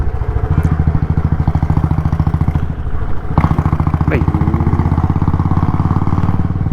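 A Royal Enfield Electra 350 motorcycle idles close by with a steady, rapid thumping single-cylinder beat that runs throughout, while someone speaks over the engine.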